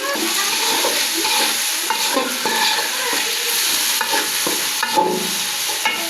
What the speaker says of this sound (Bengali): তো আমার পেঁয়াজটা হালকা ভাজা হয়েছে। এখন এর মধ্যে আমি মুরগির মাংসটা দিয়ে দিব।